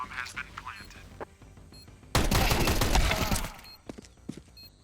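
Pistol gunfire in Counter-Strike on the Ancient map during a women's ESL Impact esports match, a dense loud volley of shots lasting over a second amid quieter game noise and talking.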